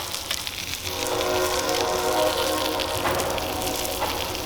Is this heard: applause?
no